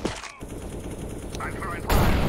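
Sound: flashbang grenade thrown in video game CS:GO

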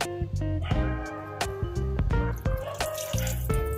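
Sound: pouring water into wet grinder batter

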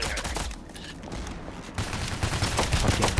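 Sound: sniper gunfire in a heist video game

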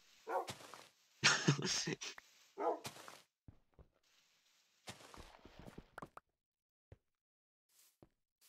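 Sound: dogs barking in Minecraft video game

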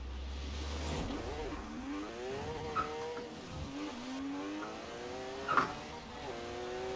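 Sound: VW Type 3 car launching and revving in Forza Horizon 4 video game

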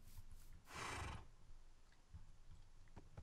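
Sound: horse neighing in Minecraft video game

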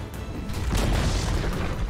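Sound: Dota 2 tower destroyed, collapse explosion from a video game

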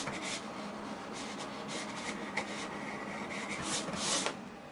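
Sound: GCC cutting plotter contour cutting a sheet

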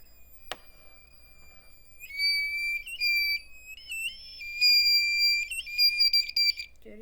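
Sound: Arduino buzzer triggered by distance sensor

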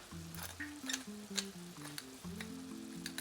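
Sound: stirring macaroni with stewed meat in a pan

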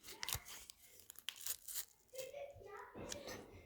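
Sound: package being torn open

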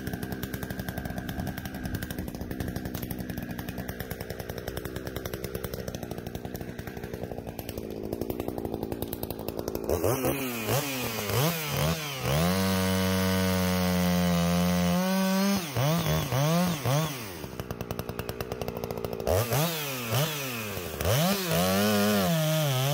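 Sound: Stihl or Husqvarna chainsaw cutting a tree stump

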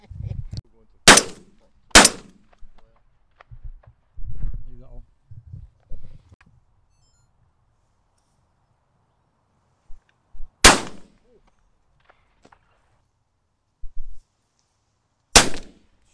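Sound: shotgun shots while shooting wood pigeons

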